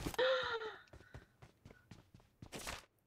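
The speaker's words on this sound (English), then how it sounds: "Did you just gasp?" A short voiced gasp during a PUBG Mobile session sounds near the start, followed by soft scattered taps and a breathy exhale near the end.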